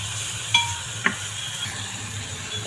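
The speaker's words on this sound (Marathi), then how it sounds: "आधी पनीर परतून घ्यायचं. फार नाही, थोडंसं परतून घेते." Paneer sautéing in a pan for a mixed vegetable masala, a soft steady sizzle broken by two quick spatula knocks against the pan, no voices.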